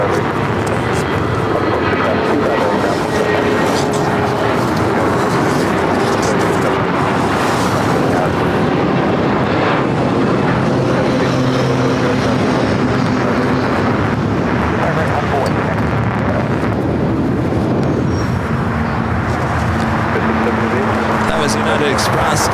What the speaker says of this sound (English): That was United Express SkyWest Flight 4682 heading to Boise in a CRJ 700ER